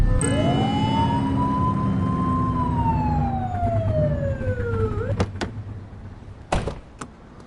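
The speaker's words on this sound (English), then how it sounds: "Get behind them and flip the siren to make them pull over." A police car siren in The Precinct video game wails in one long, loud rising and falling sweep, then cuts off, followed by a few sharp clicks and knocks.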